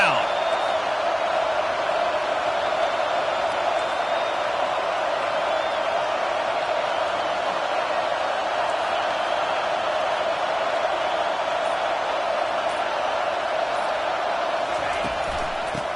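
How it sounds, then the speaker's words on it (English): A home stadium crowd in the NCAA 25 football video game roars steadily and loudly on a third-down defensive play, a dense continuous cheer throughout. "Here comes this home crowd as the defense tries to get off the field on third down."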